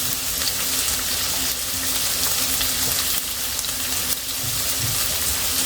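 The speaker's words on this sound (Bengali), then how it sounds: "দিয়ে দিচ্ছি চিংড়ি মাছ" Shrimp dropped into hot oil in a pan, a loud, continuous dense sizzle and crackle that holds steady throughout with no voices.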